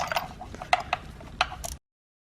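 A ratchet with a rubber-gripped spark plug socket turning out a spark plug on a Cadillac STS, a close series of light irregular clicks and metallic ticks that stop abruptly into silence.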